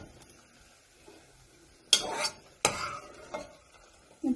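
Sweet corn sautéed in oil in a pan, a few brief bursts of stirring and scraping separated by quiet gaps, close but fairly soft.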